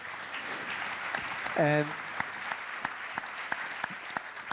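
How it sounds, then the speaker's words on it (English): Conference audience applauding at a talk on neo banks, a moderate spread of clapping with a brief tonal burst of voice near the middle and scattered louder individual claps toward the end. "I want a big applause for these people who are doing the banks of tomorrow."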